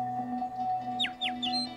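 A male superb lyrebird sings a few quick, sharp downward-sweeping chirps over a steady tonal hum, fairly close and distinct.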